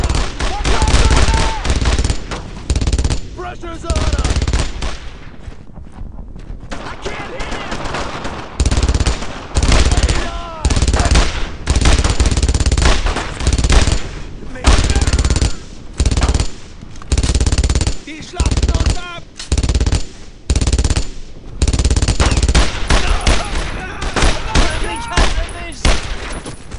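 Gunfire in Brothers in Arms during a WWII battle in France, 1944, with dense machine-gun bursts and rifle shots rattling almost nonstop, broken by brief pauses, under shouted soldier voices.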